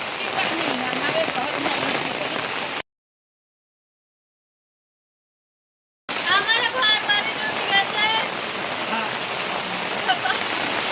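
Steady rain falling at a flooded housing settlement in Hemayetpur, a dense even hiss of drops that cuts out abruptly for a few seconds and resumes, with voices talking over it.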